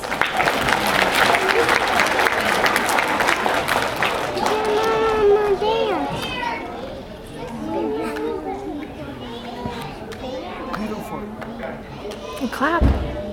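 Audience applause at a school peace maker assembly, strong dense clapping for the first several seconds that then thins out under children's chatter and movement, with a thump near the end.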